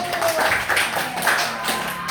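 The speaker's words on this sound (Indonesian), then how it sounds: "Oke, tepuk tangannya dulu." A school class claps in a brief burst, a busy patter of hands mixed with faint voices in the room.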